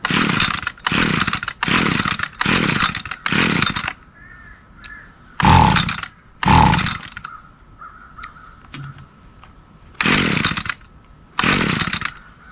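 An Echo SRM 230 string trimmer's small two-stroke engine fires up and runs in loud bursts that rise and drop several times, with short pauses between revs, near and close by.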